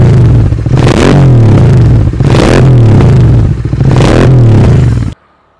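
A GT 650 motorcycle fitted with a new AEW-103 aftermarket exhaust revs hard and loud in repeated rising bursts, roughly one each second, then cuts off abruptly near the end.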